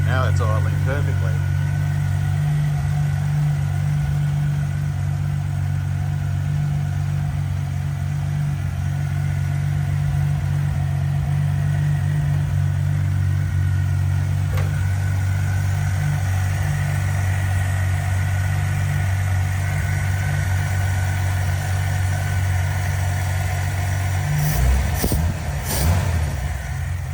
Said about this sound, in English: Now it's idling perfectly.